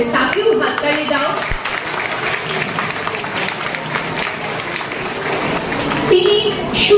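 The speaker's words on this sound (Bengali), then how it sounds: "তার মিসেস প্রণতি ঘোষ, তাকেও হাততালি দাও" A school audience at a zero-waste awareness event in a girls' high school in Naihati claps for Mrs Pranati Ghosh, a dense, steady patter of many hands filling the room from start to finish.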